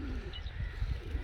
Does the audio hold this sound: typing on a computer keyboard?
no